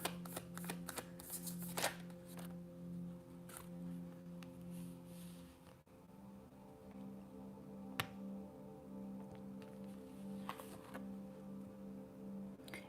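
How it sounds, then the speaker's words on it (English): Repeated crisp riffling and flicking of tarot cards being shuffled over a steady background hum, with sharp clicks now and then. "I don't know why I started shuffling again."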